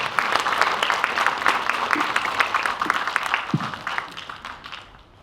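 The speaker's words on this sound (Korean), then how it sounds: "다시 한번 큰 박수 부탁드립니다." Sustained audience applause fills a ceremony hall at an award presentation for the Independence Activist of the Month, a steady wash of many hands clapping that fades near the end.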